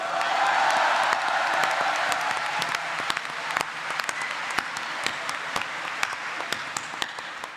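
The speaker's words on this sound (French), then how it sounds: "Applaudissements, s'il vous plaît." A studio audience applauds for several seconds, giving dense, sustained clapping that stays fairly loud throughout, with a few sharper individual claps standing out near the end.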